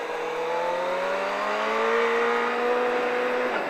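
Car engine held at light throttle on a cone-marked driving course, a steady close drone whose pitch climbs slowly and evenly for several seconds, then eases off at the end.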